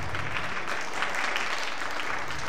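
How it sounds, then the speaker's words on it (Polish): An audience applauding at a ballroom dance competition, dense steady clapping filling the hall throughout. "Wielkie brawa"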